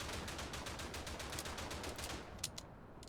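Gunfire in the World War I shooter Verdun: a sustained, rapid stream of automatic shots at a steady rhythm, followed by a couple of separate single shots at the end. No talking.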